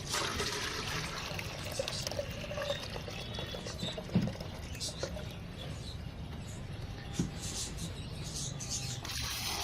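Water is strained off soaked wheat grains for growing wheatgrass at home. It makes a continuous close pouring and trickling sound with a few small clicks and splashes.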